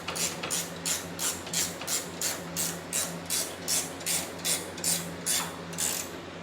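A ratchet wrench tightens a bolt during assembly of an LX25, giving about a dozen evenly spaced clicking bursts in a steady back-and-forth rhythm, close and clear, with a faint low hum underneath.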